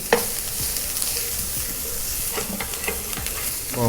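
Vegetables for a quesadilla filling sizzle steadily as they are sautéed in a pan, with scraping stir strokes and a few sharper clinks, close and alone throughout.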